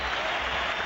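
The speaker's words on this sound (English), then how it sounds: "He finds them, he applauds them" Steady applause from a football stadium crowd during a Barcelona versus Real Madrid El Clásico in 2009, clapping for travelling Barcelona supporters in the top tier, dense and continuous throughout without a break.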